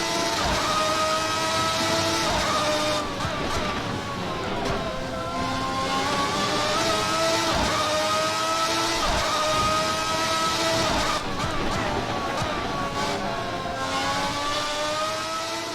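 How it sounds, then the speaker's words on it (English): A race car engine in a racing simulator video game screams at high revs, pitch climbing and dropping with repeated gear shifts, continuous and loud with no voices. "That is the sound of a real engine."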